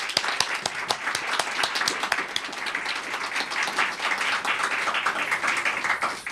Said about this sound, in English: how about a round of applause for these two also